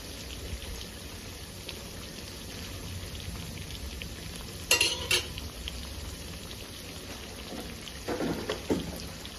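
Battered shrimp heads deep-frying in oil over a low flame, a constant crackling bubble throughout with a couple of sharp clatters midway and a burst of stirring near the end.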